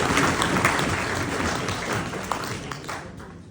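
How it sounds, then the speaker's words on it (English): A crowd at a pension rally for miners claps together after a speech point, a dense burst of hands that starts strong and gradually tapers over a few seconds, with no one speaking. "Can we clap at that point?"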